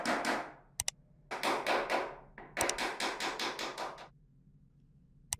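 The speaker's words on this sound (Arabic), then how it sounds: "ده طبعا باستعمال الشاكوش." A hammer drives small nails into wooden slats for a table, with sharp tapping blows in quick bursts and short pauses between groups, close and loud.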